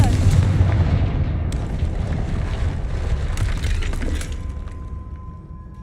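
In Hogwarts Legacy, a Confringo fire spell blast opens with a heavy rumbling boom and crackling debris, followed by sustained low roar and scattered pops that gradually thin out toward the end.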